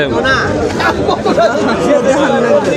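Dense crowd chatter fills the air, many overlapping voices in a busy outdoor Qurbani cattle market in Nagarpur, Tangail, steady and loud throughout.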